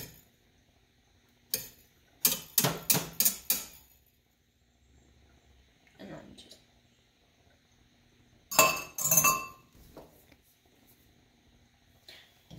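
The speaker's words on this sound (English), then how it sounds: "just scrape it alongside the pan so that the cooked eggs flip over and just get everything cooked" A whisk scrapes and clinks against a pan of scrambled eggs in quick rhythmic strokes. It comes in two short bursts separated by a quiet stretch, with occasional lighter taps in between.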